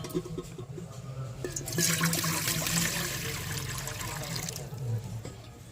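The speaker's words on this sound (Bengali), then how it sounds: "এই স্টিমারটাকে উনুনের উপর বসিয়ে নেব আর দিয়ে দেব জল" Water poured from a vessel into a steamer pot set on a stove for steaming pitha dumplings, a steady splashing fill lasting several seconds over a low background hum.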